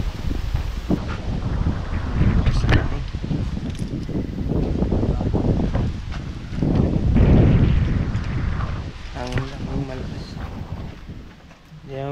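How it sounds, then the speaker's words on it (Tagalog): Strong gusts of wind sweep across a beach campsite at Carino beach resort in Dingalan, Aurora, roaring and buffeting the microphone in heavy, continuous waves, with some brief vocal sounds among them. "Hangin lang."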